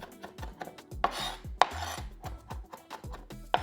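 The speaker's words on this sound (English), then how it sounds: "You want to chop 2 Roma tomatoes" A knife chops two Roma tomatoes on a cutting board in a home kitchen, each crisp knock following the last in a steady rhythm, a few blows sharper and louder, close by with no talking.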